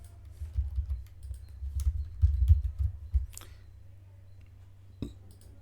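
A computer keyboard and mouse click in quick, soft bursts as keys are pressed, including F11, a close dry patter of taps with a couple of sharper clicks after a brief pause.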